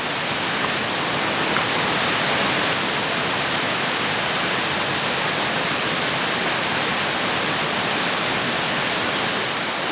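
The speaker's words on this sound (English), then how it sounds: "Welcome to this beautiful Montana waterfall." Morrell Falls, a waterfall in Montana, gives off a constant, dense roar of rushing water that holds steady and unbroken throughout.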